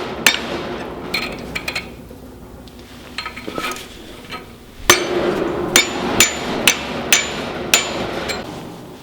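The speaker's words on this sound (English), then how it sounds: "you can get it back onto your pipe and just use the pipe as an anvil" A hammer strikes a hot, hand-forged steel skewer ring shaped on a pipe used as an anvil, giving sharp metallic clinks that come in scattered groups at first, then settle into a steady series of ringing blows.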